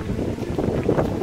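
Heavy wind buffeting a microphone, a steady low roar with rumbling gusts that swell and fade throughout.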